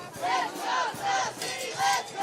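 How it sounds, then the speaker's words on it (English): Spectators at a high school football game shout and chant in rhythmic waves of voices, heard from a moderate distance across the stands. "The crowd here is imploring their team to keep their head up."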